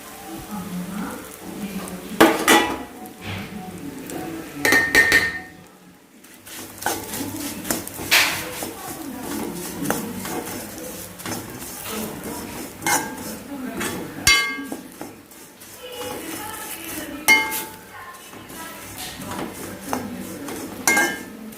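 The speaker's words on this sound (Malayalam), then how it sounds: "ഇനി നമുക്ക് അവിൽ വറുത്ത് പോരാം." Flattened rice (aval) roasting in ghee in a pan, heard as a steady soft sizzle under repeated clinks and scrapes of a metal spoon against the pan, with no talking.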